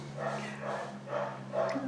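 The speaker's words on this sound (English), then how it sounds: "That's a play bark, and one probably has a toy that the other one wants." Two dogs bark playfully at each other over a toy, quick yappy barks at a moderate distance, with a steady low hum underneath.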